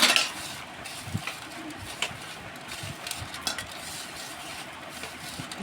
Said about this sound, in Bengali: এরকম করে শুকনো মরিচ ভাজে নেবেন।